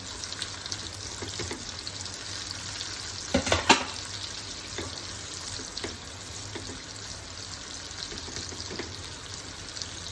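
Onion and chili fry in a pan over high flame for butter chicken, a steady close sizzle with occasional stirring scrapes and a brief louder clatter partway through, no voices.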